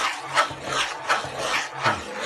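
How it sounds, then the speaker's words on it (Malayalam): A spoon scrapes and rasps through thick Kerala black halwa in a pan as ghee is worked in, with repeated rubbing strokes roughly every half second, close and moderately loud with no talking. "നിങ്ങൾ ഈ കാണുന്ന പോലെ തന്നെ ഇളക്കാൻ ഭയങ്കര പാടാണ്. കൈ വിടാതെ ഇളക്കിക്കൊണ്ടിരിക്കണം"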